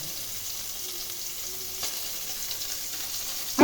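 Rohu fish curry with a paste of cumin, coriander, green chilli, ginger and tomato sizzles and fries steadily in a pan, a soft continuous hiss with faint stirring clicks and no voices.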